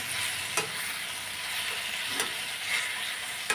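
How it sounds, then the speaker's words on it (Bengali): Fish fat sizzles steadily frying in hot oil in a pan, with a few sharp pops and crackles bursting out every second or so. "এখনো ভাজা হচ্ছে পটপট করে ফুটছে"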